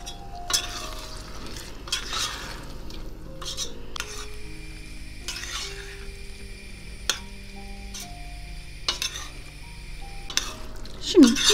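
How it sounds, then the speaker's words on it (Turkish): Grated tomato sautéing in a pan, a soft steady sizzle broken by clinks of a utensil stirring against the pan, with sharper taps near the end. "Evet, rendelediğimiz domatesle de çok güzel kavruldu."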